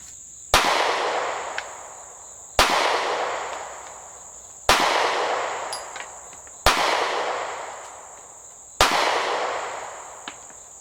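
Five evenly spaced, sharp pistol shots from a SCCY CPX2 fired double action at an outdoor range, each loud report followed by a decaying echo, with no talking.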